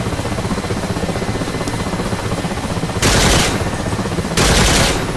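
Helicopter-mounted weapon firing at BTR armoured vehicles in the DCS Mi-8 combat flight simulator, two loud sustained bursts of rapid fire over a constant rotor and engine drone.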